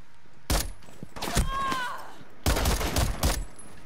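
Gunfire from the video game Rainbow Six Siege comes in several sharp bursts of rapid shots, close and loud, with a brief high whine between volleys.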